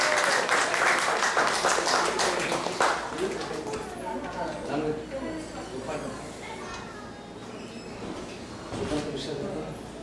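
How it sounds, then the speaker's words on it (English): A congregation at an ISKCON temple in Atlanta claps during a Sunday gathering; a burst of applause fills the first few seconds and then thins out as a voice speaks over the room. "Let's give a round of applause for them."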